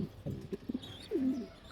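Racing pigeons, including a grown youngster, give soft low coos in a few short bursts, close by and fairly quiet, with a faint chirp in the background.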